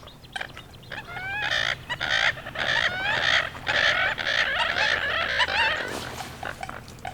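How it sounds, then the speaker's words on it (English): A flock of ducks quacking in repeated bursts, fairly close and lively, with outdoor lakeside background noise underneath. "Listen to those ducks."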